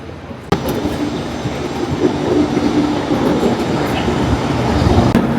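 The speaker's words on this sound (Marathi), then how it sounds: "तर बघा आता आली आपली बुलेट ट्रेन" A bullet train pulls into a station in Taiwan with a loud, steady rumble and rushing rail noise that starts abruptly and builds slightly, close by with no talk.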